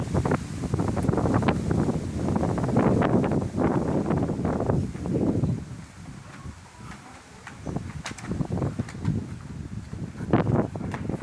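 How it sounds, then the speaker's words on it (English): Strong gusting wind in Tombstone, Arizona buffets the microphone with a loud, rumbling roar that eases for a moment and then picks up again. "Windy day."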